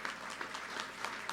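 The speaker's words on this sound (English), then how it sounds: "Congratulations, you all deserve a round of applause." Audience applause at a justice reinvestment policy event, a steady wash of clapping from many hands with no voices, moderately faint and continuous throughout.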